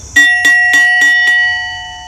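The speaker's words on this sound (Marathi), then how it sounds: "जेव्हा शाळा भरे तेव्हा आपण बेल वाजस आणि तिनानंतर जेव्हा शाळा सुटस तेव्हा आपण बेल वाजस" About five quick, evenly spaced strikes of a ringing school bell, loud and near, with the metallic tone decaying after the final hit.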